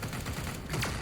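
A burst of rapid gunfire rings out in a Warhammer 40k Chaos Gate: Daemonhunters battle aboard a Death Guard ship, loud and dense for the whole second with a rising whistle near the end.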